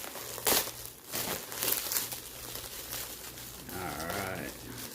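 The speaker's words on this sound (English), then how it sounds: "A lot of bubble wrap, a lot of tape." Crinkling and tearing of bubble wrap and packing tape as comic mail is unboxed, with bursts of crumpling plastic close by and a short stretch of talk near the end.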